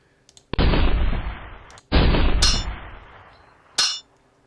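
A cannon fires balls in an HTML canvas physics demo: two long, loud booming blasts that decay slowly, followed by a third shorter shot, each standing alone against quiet.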